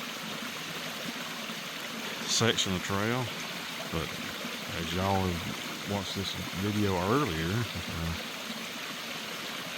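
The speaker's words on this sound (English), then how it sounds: "flowing pretty good after heavy rains. It's a awesome little waterfall." A small waterfall swollen after heavy rains rushes in a steady, broad hiss on the Foothills Trail, with someone talking over it.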